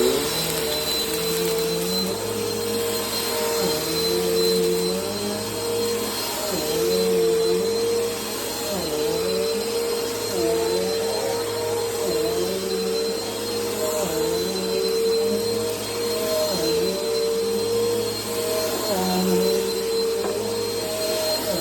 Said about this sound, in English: So now let's run the Power Force Vac 1739.